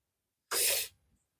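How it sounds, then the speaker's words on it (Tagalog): One short, close burst of spray paint aimed at a power bank, a loud hiss lasting under half a second before cutting off, with no talking. "kukulayan natin ito, i-sprayhan natin"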